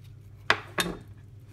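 A knife cuts two small notches into a radish, giving two short, crisp crunching cuts about a third of a second apart, close and clear against a quiet background.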